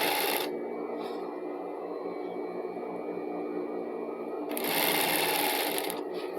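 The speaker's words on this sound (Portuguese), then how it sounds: "Vou costurar aqui com 1 centímetro" Sewing machine running a skirt side seam with a 1 cm seam allowance, a steady close whir of rapid stitching throughout with a louder burst near the end.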